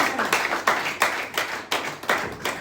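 A church congregation at a Sunday service claps in a brisk, even rhythm to acclaim the Lord, with about eight sharp claps that ring out clearly and close by, with no one speaking over them.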